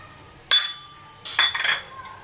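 Vegetables such as field beans, hyacinth beans, peas, carrots and peanuts are tipped into a pan for Maharashtrian Bhogi bhaji, giving two bright clattering bursts of clinks and rattles, close and moderately loud, with quiet gaps between.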